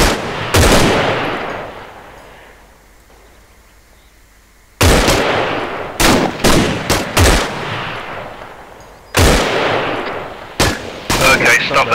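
Rifles fire in bursts during a military training drill: an opening volley, a quieter lull, then repeated loud sharp shots and bursts, some rapid and clustered, ringing close and punchy.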